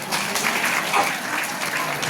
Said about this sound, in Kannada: ಅಲ್ಲಿರ್ಬೇಕಮ್ಮ ಚಪ್ಪಾಳೆ